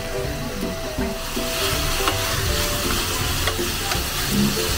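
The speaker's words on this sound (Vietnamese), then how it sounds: "mình sẽ cho cái gói sốt vào xào sơ qua, cho thịt và tôm thấm nước sốt luôn" Meat and shrimp stir-fried with a packet of sauce in a pan make a loud, steady sizzle. A spatula scrapes and stirs throughout, close up, with no talking.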